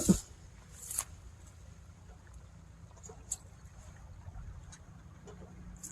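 A tractor engine runs with a steady low rumble close by, under a constant airy hiss and a few sharp knocks.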